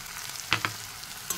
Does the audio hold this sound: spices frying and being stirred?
yes